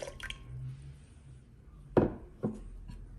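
Half a cup of orange juice goes in with white vinegar and chile soaking water, arriving as two short, close liquid splashes over a quiet background.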